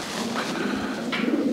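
Soft, low cooing of a racing pigeon repeats under a steady background hum, close by, with no speech.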